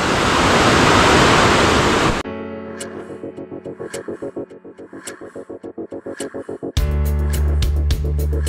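The Buey river in Abejorral, Colombia, rushes loudly for about two seconds, then gives way to a rhythmic mechanical throbbing and a heavier rumble, with no talk.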